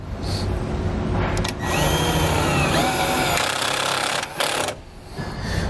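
A power drill drives a self-tapping screw into the metal of a 2018 Volkswagen during trailer wiring installation, a loud continuous whir with a rising grind and brief pauses near the end.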